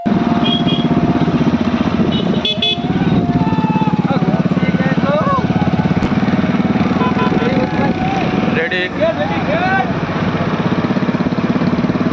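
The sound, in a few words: motorcycle riding alongside runners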